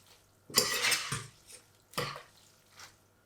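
Cooked pasta tossed into a pan of lemon cream sauce, giving a loud clattering burst of pan and utensil clinks followed by a few shorter scrapes and taps, close by with no talking.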